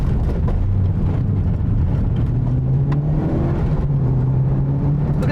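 Mitsubishi Lancer Evo Tommi Makinen engine pulling steadily under load while driving, a continuous low droning note that rises gently in pitch, with a whooshing layer of road and wind noise over it and no talking.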